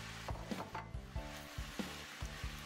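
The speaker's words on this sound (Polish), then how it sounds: "dorzucam do reszty smażących się warzyw" Sizzling in a pan with stirring and scraping, steady frying hiss with repeated utensil knocks, close and fairly loud.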